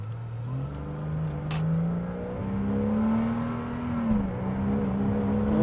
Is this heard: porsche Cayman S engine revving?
yes